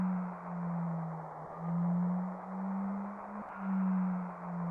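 A low, wavering synthetic drone with soft swelling pulses, the eerie cry of the planet effect in Final Fantasy VII, hovers faint and alone over a hazy ambient wash.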